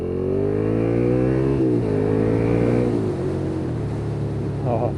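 Suzuki SFV650 Gladius fuel-injected V-twin motorcycle engine revving while riding, a loud, close, steady drone rising in pitch through gears, dropping briefly at shifts, with wind noise.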